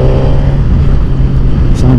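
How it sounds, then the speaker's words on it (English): A Suzuki GSX-R1000R motorcycle fitted with a Yoshimura R11 exhaust rumbles steadily up close on a ride out on the Norfolk Broads, with a deep continuous engine note and light wind noise. "Oh, I love that exhaust. That Yoshimura R11."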